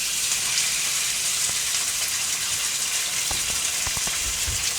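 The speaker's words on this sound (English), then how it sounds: "you can hear that's a hot pan" Marinated chicken pieces, dried after an overnight marinade, sizzle steadily in a hot pan, a dense continuous hiss with a few small pops and crackles near the end and no talking.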